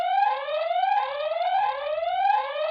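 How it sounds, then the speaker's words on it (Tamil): A Wi-Fi CCTV security camera's built-in siren alarm wails loudly in repeated rising sweeps, about three cycles, piercing and close, with nothing else audible. "இத கிளிக் பண்ணோம்னா ஒரு 15 செகண்ட்ஸ்க்கு நம்மளுக்கு வந்து சைரன் சவுண்ட் வந்து வந்துட்டே இருக்கும்"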